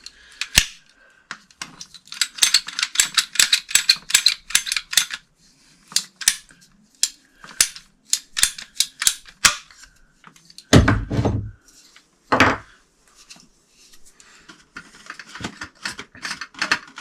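A broken water line pipe under a cabin floor is cut with a hand cutting tool, giving runs of quick sharp clicking snips, a pause, then a couple of heavier louder crunching cuts near the end.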